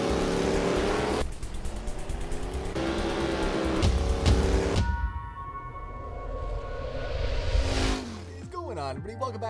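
Rally car engine in the WRC 10 racing game, played on a direct drive wheel, roaring loud and steady with gear changes and surges, then dropping to a lower drone near the end.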